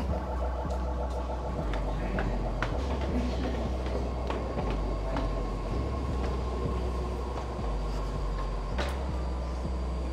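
A BART subway train arrives, rumbling steadily with deep low-frequency roar, metallic clanks and brief squeals, close and continuous without voices.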